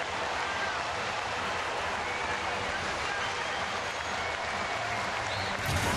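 Fenway Park baseball crowd, including fans in the Green Monster seats, roaring and applauding after a home run: dense, sustained cheering with clapping that fills the whole stretch, loud and steady.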